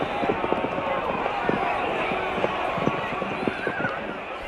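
Horses gallop in a rhythmic clatter of hooves at the 1926 Derby, heard through a radio broadcast with a crowd murmuring underneath, the thudding beats repeating steadily over a dense background.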